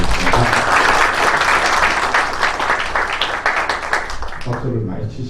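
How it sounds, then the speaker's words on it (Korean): An audience at an academic seminar on private investigation applauds the society president's introduction, a loud, steady wash of many clapping hands lasting about five seconds before easing slightly at the end. "박수 부탁드리겠습니다."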